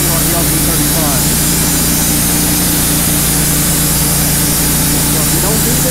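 A 25-horsepower engine drives an LP35 portable sawmill, running as a steady, loud drone with a constant low hum and dense broadband noise throughout, with no talk.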